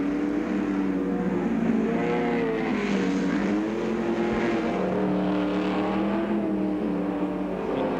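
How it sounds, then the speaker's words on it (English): Production touring cars racing in 1969, including a Ford Mustang and a Lotus Ford Cortina, roar past at a circuit with sustained loud engine drone and shifting pitch as they pass, no voices over it. "Car number 1, the Ford Mustang, driven by Leo Geoghan, in second place, following Jim McKeown in the Lotus Ford Cortina."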